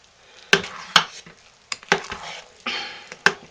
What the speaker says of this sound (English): You just have to keep stirring it while you're cooling.